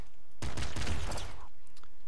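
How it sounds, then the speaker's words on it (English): Machine gun fire in the top-down shooter Nuclear Throne, a dense, loud burst of rapid shots lasting about a second amid game sounds. "Eat the SMG and use the machine gun?"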